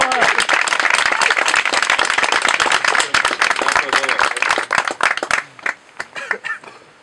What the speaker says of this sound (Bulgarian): Моля, аплодисменти за Стефани.